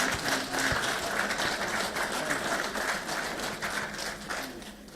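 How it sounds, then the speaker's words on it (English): Applause from a debate audience at a Zimbabwe 2018 election debate, steady dense clapping that carries through all five seconds with a faint mechanical clicking and a slight fade toward the end. "Can you please give them a resounding round of applause?"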